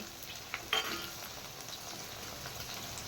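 Pirandai (adamant creeper) stems frying in oil make a soft, continuous sizzle, fairly quiet and close, with a single utensil clink early on.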